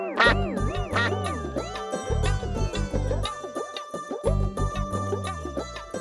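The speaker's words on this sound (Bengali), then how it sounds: "আমার বক বক সোনা, একটু প্যাক প্যাক করো না।" A duck quacks in several harsh, nasal bursts in a cartoon scene, set over a bouncy, tinkling musical backing that runs throughout.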